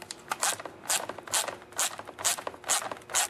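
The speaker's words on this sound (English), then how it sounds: "remove the two nuts that hold the carburetor on right there" A socket ratchet clicks in short, regular bursts, about seven in all, as it backs off the carburetor nuts on a STIHL 017/MS170-type chainsaw. The sound is close and fairly quiet, with no talk.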